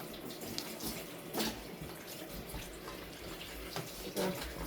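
Water poured into a semolina sweet mixture in a pan, heard as a soft, steady splashing pour close by at low level, with a couple of louder clinks.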